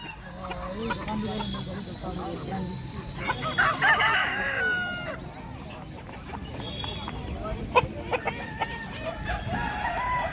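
A rooster crows loudly at Kashipur livestock market, its call rising over clucking Aseel hens and steady background chatter from people nearby.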